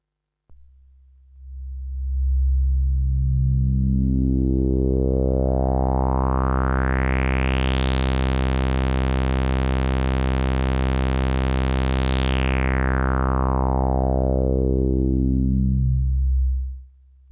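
A Minimoog synthesizer filter at 50% resonance sweeps slowly up to a bright whistling peak and falls back down, a smooth sustained tone throughout.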